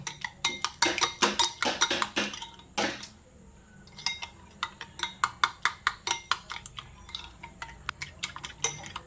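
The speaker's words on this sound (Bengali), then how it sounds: "দিয়ে ভালো করে আমি ডিমটাকে ঘুটে নেব।" Eggs whisked with Maggi spice mix in a bowl, a fast run of sharp clinking beats that pauses briefly and then resumes in a steady, even rhythm, close and clear with no talking.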